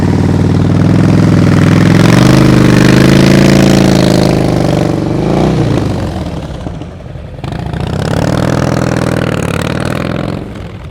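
A quiet motorcycle engine idles and runs at low RPM during slow-speed riding practice, a steady close, loud drone that dips briefly midway before picking back up.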